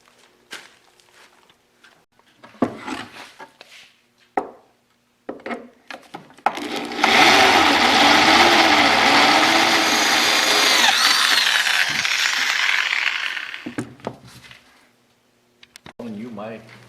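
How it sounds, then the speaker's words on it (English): A power drill bores holes along a bed frame for carriage bolts, one loud sustained whine lasting several seconds, with knocks and handling sounds before and after. "drill about a bajillion holes all the way down this frame so we can throw these carriage bolts in"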